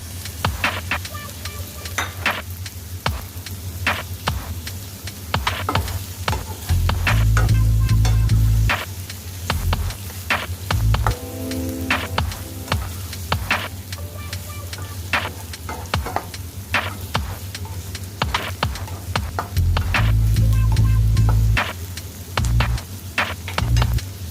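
Meatballs fry in a stir-fry pan with a steady, close sizzle, broken by louder bursts of stirring and spattering around the middle and near the end.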